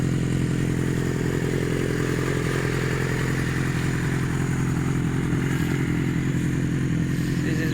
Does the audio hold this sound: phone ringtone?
no